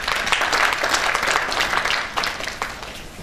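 A hall audience at an awards program in a hotel bursts into loud, dense applause welcoming a guest to the stage, continuous close clapping without speech.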